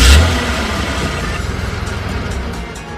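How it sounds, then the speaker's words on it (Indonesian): A car engine rumbles loudly with a burst at the start, then settles into a steady, slightly pulsing running sound. "Energi listrik tersebut digunakan untuk menghidupkan mesin kendaraan"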